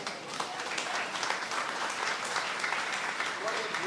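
A church congregation at a mission service applauds in praise, a continuous, moderately distant wash of clapping that holds steady for several seconds, with faint voices mixed in beneath it.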